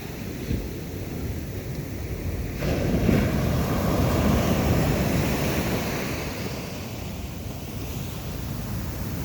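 Big ocean waves crash onto a beach, a loud, broad roar that swells into a heavier surge partway through and then eases back into a steady rushing wash, with wind rumbling against the microphone and no talking.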